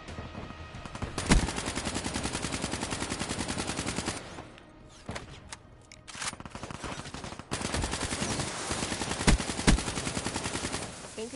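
Automatic gunfire in Black Ops 3 multiplayer, sustained rapid bursts with sharp single cracks, a short lull in the middle, then more steady firing, loud and close.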